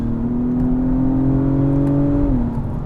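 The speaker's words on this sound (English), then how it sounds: "The V6 is just so torquey here, even out of boost when you're cruising." An Acura TLX Type-S with its turbo V6 pulls smoothly under load, a steady, close engine drone that climbs slightly in pitch before easing off near the end, with no voices.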